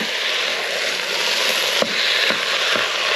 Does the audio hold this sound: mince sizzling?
yes